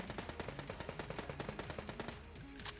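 A machine pistol in Enter the Gungeon fires a steady rapid stream of clipped shots in an even rhythm, then the burst stops short with a couple of electronic game tones.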